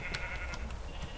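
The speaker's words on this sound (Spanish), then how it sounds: "Wow, las ovejas que hay aquí." Several Minecraft sheep bleat in the game in short overlapping calls, close and clear, over a faint background with no voices.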